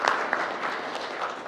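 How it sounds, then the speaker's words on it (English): A small press-conference audience claps briefly and quietly, a short scattered patter of hands with a couple of sharper claps near the start. "please feel free to applaud for that"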